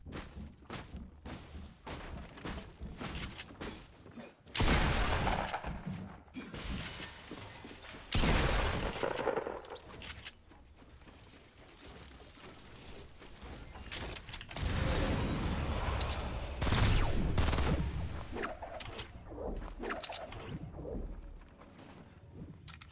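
Bursts of gunfire and thudding impacts in the Fortnite battle royale video game, rising and falling in loud clustered volleys with quieter gaps between them, with no voices.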